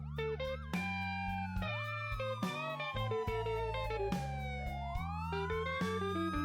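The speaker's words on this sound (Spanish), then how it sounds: "escuché el ulular de la sirena de un coche patrulla" A police siren wails continuously, its pitch sweeping up and down with warbling tones, loud and steady throughout without any voices.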